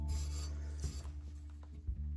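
Steady rasping strokes of 80-grit, inch-wide emery cloth sanding a steel bicycle fork where silver solder was cleaned off, a continuous close scrubbing with a few brief louder scrapes.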